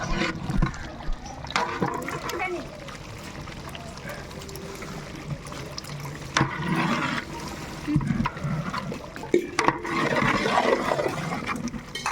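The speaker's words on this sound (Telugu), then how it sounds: "వేడి నీళ్ళు పోసేసుకున్నాము." Hot water pours into a large pot of chicken biryani being made in bulk, a rushing, gurgling wash of liquid with bursts of splashing and clatter, and a voice speaking over part of it.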